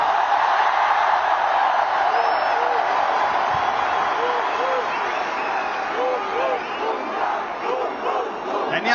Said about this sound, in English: A huge round of applause to Jasprit Bumrah,